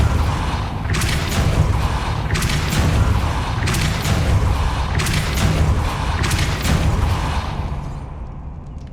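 Depulso spell cast in Hogwarts Legacy, heard as a run of about five loud, deep booming blasts at a regular rhythm, each with a bright burst on top, fading out at the end.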